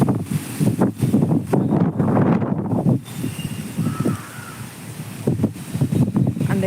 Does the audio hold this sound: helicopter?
no